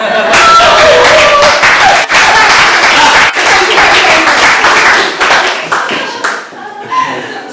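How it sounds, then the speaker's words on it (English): Sustained crowd applause at a mental health and World Homeless Day gathering, loud and dense hand clapping for several seconds that thins out near the end, with scattered voices in the crowd. "Big round of applause, round of applause"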